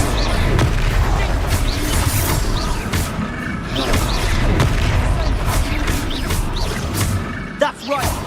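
Confringo fire spell exploding in the video game Hogwarts Legacy: a dense, continuous barrage of booming blasts and crackling impacts, loud and sustained, with combat effects layered throughout.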